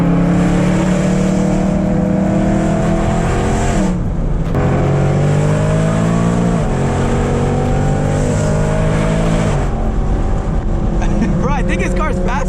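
A straight-piped BMW E92 M3 accelerates hard through the gears, loud and close from inside the car, its rising engine drone breaking at each shift, with people talking over it.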